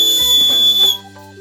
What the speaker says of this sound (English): I can't whistle, so I have to use my lower lip to make a call.